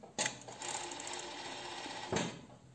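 A sewing machine stitches bikini fabric in one short, steady whirring run of about two seconds, starting and stopping with soft clunks, close and fairly quiet, with no talking.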